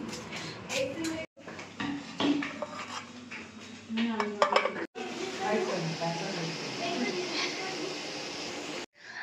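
Meat fries in a pan with a steady background sizzle, while utensils scrape and clatter against the cookware and a person talks over the cooking throughout.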